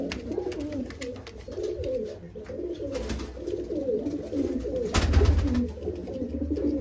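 Madras pigeons cooing nearby, with repeated low rolling coos overlapping through the clip and a brief thump or flutter partway through.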